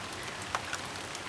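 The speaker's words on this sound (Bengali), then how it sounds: "প্রচুর বৃষ্টি হচ্ছে" Heavy rain falling beside a balcony flower garden, a soft steady patter of drops with a few slightly sharper hits, fairly faint and continuous.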